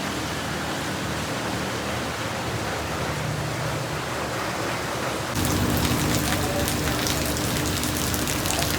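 Steady rain pours down, a dense broadband hiss that grows heavier and louder partway through, with no voices.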